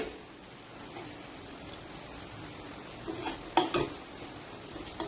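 Metal clinks and a scraping clatter of a lid opened on a cooking pot of beetroot biryani, a couple of sharp knocks over a faint steady kitchen hiss.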